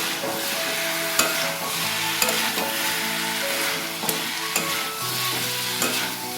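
Egg and pointed gourd curry stir-fried in a pan: a steady, close sizzle with a spatula scraping and knocking against the metal at irregular intervals, no voices.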